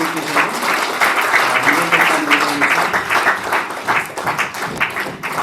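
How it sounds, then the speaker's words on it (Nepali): Sustained applause from an audience at a Bible college graduation ceremony, dense and fairly loud, continuous clapping for the whole stretch. "हामी ताली बजाउनेछौँ।"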